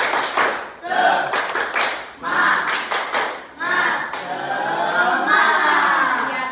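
A classroom group performs the rhythmic 'tepuk semangat' clap chant, bursts of patterned hand claps alternating with shouted chant voices, loud and close, ending in sustained group chanting.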